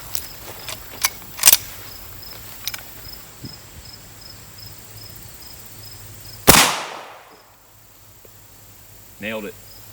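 A single sharp, loud gunshot from a Navy Arms replica Henry black powder rifle at an outdoor range, followed by a decaying echo, after a few lighter knocks and clicks and outdoor ambience with insect noise.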